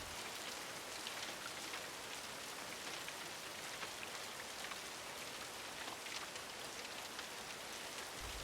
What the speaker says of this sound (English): enjoying the sounds of the pouring rain outside